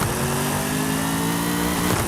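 A 2019 Corvette ZR1 with a 1300-horsepower V8 and anti-lag tune roars loudly in the racing game Forza Horizon 5, holding a steady high-revving drone with rising harmonics that dips sharply near the end, with no one talking.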